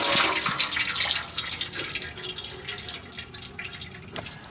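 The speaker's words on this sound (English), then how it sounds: "Make sure to loosen the cap on your overflow bottle, and you will have a fountain of coolant come out." Coolant drains from a 1998 VW A3 Jetta TDI 1.9L during a thermostat change, a close, continuous splashing trickle with small drips that slowly eases off.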